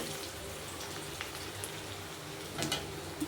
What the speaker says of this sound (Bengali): এবার তেল গরম হচ্ছে, এর মধ্যে আমি পেঁয়াজ কুচনোটা দিয়ে দেবো। এই পেঁয়াজটাকে আমি ভালো করে ভেজে নেব।